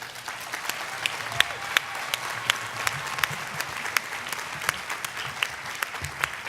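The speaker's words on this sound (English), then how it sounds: "Thank them now with a round of applause." Congregation applauding a team after a church communication report, a distant, fairly soft round of clapping with a few sharper individual claps standing out, steady throughout.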